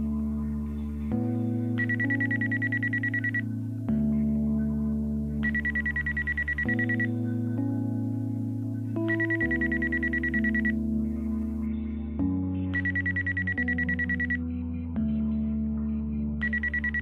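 A telephone rings in a Sudanese drama series, a loud repeating electronic ring of about two-second bursts with short pauses, sounding five times close and alone.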